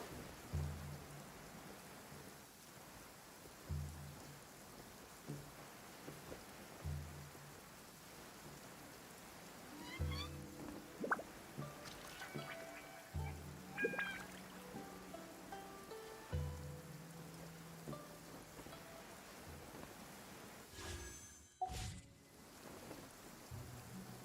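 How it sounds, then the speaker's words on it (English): Steady soft rain falls in a video game scene, a continuous hiss with faint droplet texture under scattered game effects and brief chimes, with a sharp louder burst near the end. "There is no purer form of water. Rain."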